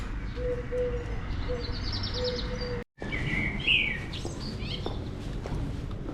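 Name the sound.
birds singing in a town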